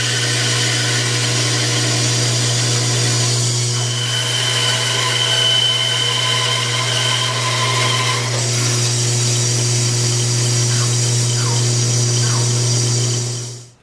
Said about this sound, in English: Now it's time to draw on a star, head over the bandsaw, cut it out, and try it out.